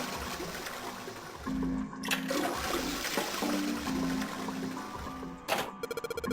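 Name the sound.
toilet flush from pulling string, Zero Escape video game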